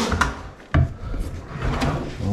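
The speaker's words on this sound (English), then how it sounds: "Tapos dito, okay naman itong mga drawer guide." Wooden drawer sliding along its drawer guides in a carpentry project, a short scraping wooden rub with a knock partway through, heard close and clear.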